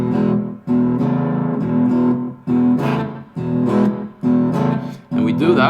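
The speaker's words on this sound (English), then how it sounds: "So for the second voicing here that I'm alternating in between," A guitar in open E tuning plays a blues rhythm, alternating between two chord voicings in a steady pattern of repeated strummed bursts, loud and close, with no voice over it.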